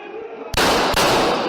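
Gunfire in a jail hostage incident: a sharp, loud burst erupts suddenly after a quieter stretch, followed by a second shot close behind, both harsh and echoing.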